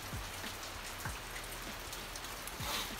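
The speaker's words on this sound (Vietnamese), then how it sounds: "Ở ngoài kia là đang mưa các bạn." Steady rain falls outside a house, a soft continuous patter with scattered drip taps, heard alone and at a low, even level.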